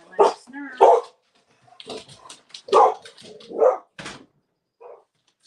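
A dog barks in sharp single and double yaps indoors, fairly close and loud, spaced irregularly with short whimpering yips between, while a voice is heard faintly at moments.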